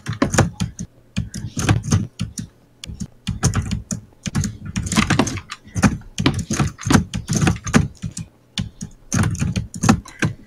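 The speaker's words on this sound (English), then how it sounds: "The loudest keyboard known to man." Loud, clattering computer keyboard typing in rapid irregular bursts with brief pauses, close and dominant throughout.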